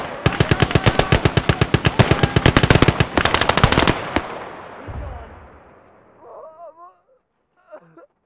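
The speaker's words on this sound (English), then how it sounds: "Feindliches MG!" Enemy machine gun fire in the World War II game Call to Arms: Gates of Hell, Eastern Front: a loud, close, rapid burst of shots for about four seconds, then a fading rumbling echo and a few faint trailing sounds.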